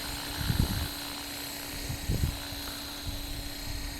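Blade Fusion 360 3S RC helicopter lands, its steady high-pitched rotor and motor whine running throughout with a few low thumps of wind or rotor wash, moderately close.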